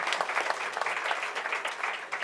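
Steady audience applause at a book launch evening, a dense, even wash of many hands clapping for just over two seconds with no speech over it.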